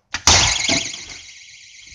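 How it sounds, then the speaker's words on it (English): A house door alarm sounds in a single loud, steady electronic tone that holds and slowly fades, preceded by a click from the door opening, with no talk. "And I forgot about the pesky alarm."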